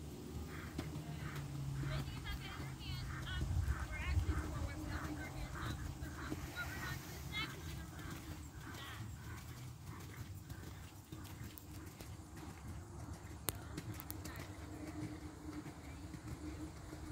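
Horse hooves clop steadily in a walking rhythm during a riding lesson, with people talking quietly and some background honking nearby.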